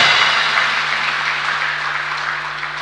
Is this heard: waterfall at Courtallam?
no